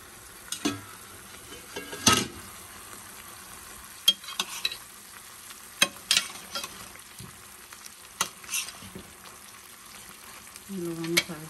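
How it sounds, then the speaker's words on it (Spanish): Ranch-style chicken stew (pollo de rancho sudado) bubbles steadily in a pot, with a soft simmering hiss broken by scattered clinks and knocks from the pot and utensils. "Ya está hirviendo."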